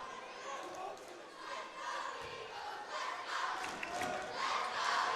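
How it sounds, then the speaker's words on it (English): A high school boys basketball crowd cheers and roars in a gym, a broad swell of voices building steadily and getting louder toward the end, heard from across the court. "And the crowd is into it once again."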